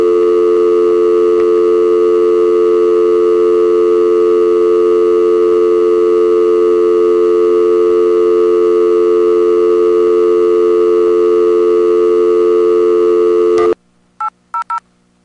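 Steady, loud landline dial tone holds for about fourteen seconds, then cuts off into a few short touch-tone dialing beeps as a call is placed back in, with no voices.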